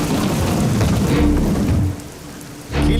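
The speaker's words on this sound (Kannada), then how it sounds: "ಮಳೆ ಸುರಿತಾ ಇದೆ" Heavy rain pours steadily onto surfaces, a dense continuous hiss with a brief dip in intensity before the downpour surges back loud.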